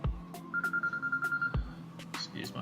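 A mobile phone rings indoors with a steady electronic tone, repeating in short pulses for about a second, while a farm field-mapping presentation is under way.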